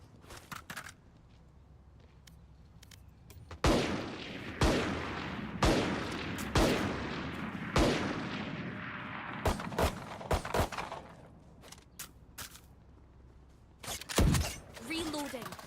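Raze's explosive ordnance in the Valorant video game, a run of sharp, loud blasts and bursts spread over about fifteen seconds, mixed with clicks and game effects under ongoing talk.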